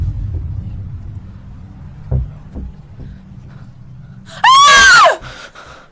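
A woman in a Bollywood horror-romance film scene lets out a single loud, high frightened scream lasting under a second, rising out of quiet low rumbling background ambience, with a few soft thuds before it.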